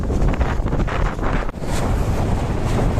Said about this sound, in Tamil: அப்படியே ஆளையே தள்ளுற அளவுக்கு காற்று அடிக்குது